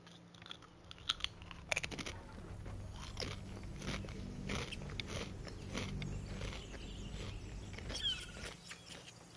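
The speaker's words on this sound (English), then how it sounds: "Don't mind me crunching on some chips." Potato chips crunch close to the mic in a run of sharp, irregular bites and chewing over a quiet, steady background.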